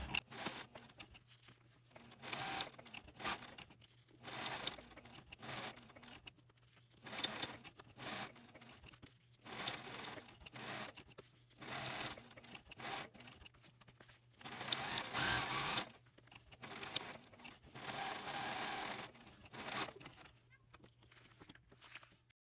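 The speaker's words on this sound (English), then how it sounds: "Using a size 18 needle, size 70 thread, Tech 70 thread, and 4 stitch length." Sewing machine top stitching a cork trifold wallet with a size 18 needle, Tech 70 thread and 4 stitch length, running in short bursts with clicking pauses between runs, close and fairly loud.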